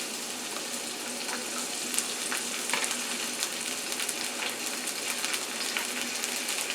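Broccoli and sweet peppers sizzle steadily in an omelette pan, a dense even crackle held at moderate loudness throughout with occasional brighter pops and no talking.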